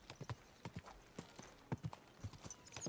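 Horse hooves clip-clopping in the video game Kingdom Come: Deliverance II, a quick uneven run of hollow thuds close by and fairly quiet, with no one talking over them.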